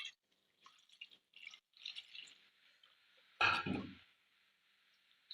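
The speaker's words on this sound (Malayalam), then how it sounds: "കുറച്ച് ഇതിൻ്റെ അരപ്പിന് വെള്ളം കൂടെ ഒഴിച്ച് കൊടുക്കുന്നുണ്ട്" Water splashes into ground masala paste for a thick tuna fish curry, starting with soft drips and small trickles, then a louder, fuller pour that gradually tapers off.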